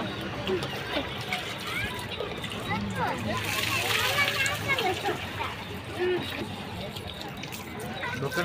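Hot spring water at Vajreshwari splashes and sloshes continuously, with people talking and calling out over it.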